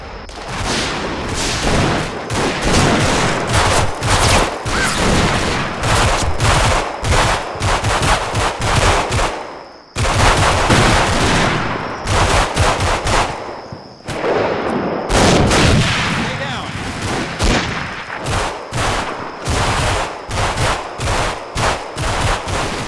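Loud, dense gunfire from Combat Mission: Fortress Italy, with sustained machine-gun bursts and scattered rifle shots rattling almost continuously. Two brief lulls break the firing, and nobody speaks.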